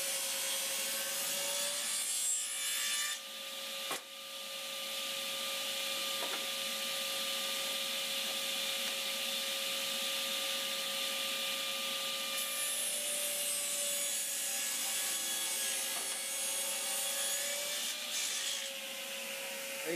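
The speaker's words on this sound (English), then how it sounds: "Here I'm resawing this 2x4 down for a bottom." A 2x4 wood board is resawn on a power saw, making a continuous steady whine and cutting hiss that holds at an even level for most of the stretch.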